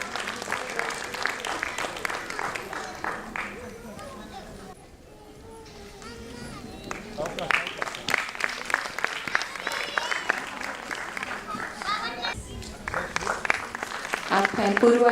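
A crowd applauds a small children's dance group at a stage dance show, with steady clapping that fades down briefly midway, then swells back louder toward the end.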